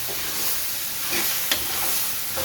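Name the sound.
stirring chicken frying in pan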